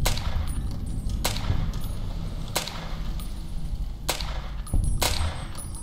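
Ruger SR-556 rifle in Fallout: New Vegas firing single shots, four sharp cracks spaced about a second apart, loud over a steady low rumble of game ambience.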